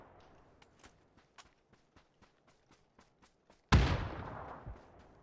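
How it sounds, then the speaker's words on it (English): Suppressed gunshots in PUBG ring out as a string of sharp, evenly spaced pops, fairly faint and distant, followed by a sudden loud burst of noise that slowly trails off. "I hear suppressed shots to the right"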